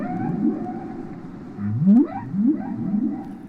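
Whale song: low moaning calls rising in pitch, a few sweeping upward cries in succession over a murmuring underwater background, with no speech.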